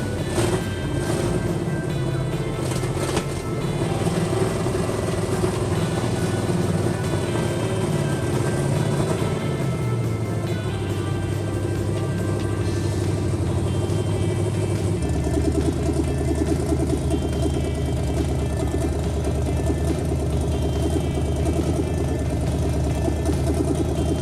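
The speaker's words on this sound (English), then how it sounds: "And here we go with the first start." A 1966 Plymouth Satellite V8 with twin AFB carburetors fires for its first start and settles into a loud, steady rumbling idle, the engine note dropping and evening out partway through, heard close with no talking.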